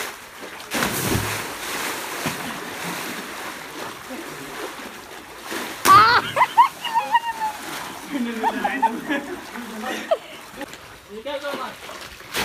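A person leaps into a well in Konkan during the monsoon, hitting the water with one loud splash, followed by sloshing and rippling water, with rain and outdoor noise in the background and people talking.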